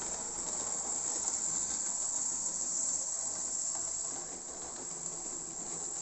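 A steady, high-pitched whirring hiss runs without a break, like a small model locomotive motor running continuously along its track nearby: a 00 scale BB 67001 diesel locomotive hauling a goods train.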